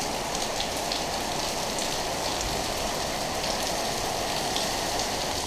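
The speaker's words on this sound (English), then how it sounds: "not only is it raining, it's also hailing on us" Steady dense rain with hail pattering on surfaces around a bicycle touring camp in Europe, a constant loud hiss with scattered sharper taps throughout.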